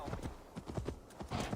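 A reindeer mount in Assassin's Creed Valhalla trots along with brisk, evenly paced clip-clop hoofbeats, close and fairly loud.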